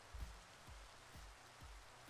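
Rain falling in the Minecraft video game, a faint steady hiss with soft, evenly spaced low thumps repeating about twice a second, heard alone without talk.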